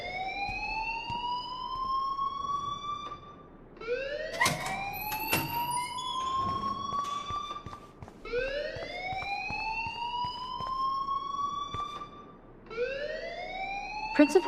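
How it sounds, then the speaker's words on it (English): Repeating electronic alarm siren blaring inside a school building in the video game Life Is Strange, with rising wailing sweeps cycling every few seconds, loud and continuous, with some brief speech-like sounds mixed in. "please turn off that alarm since that's your job"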